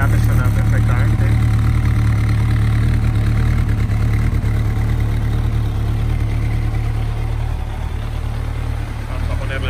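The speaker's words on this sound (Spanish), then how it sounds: "ya veis el escape suena perfectamente" A 1999 Yamaha XJR 1300 motorcycle exhaust idles steadily nearby, a continuous low rumbling throb that holds the same loud level throughout.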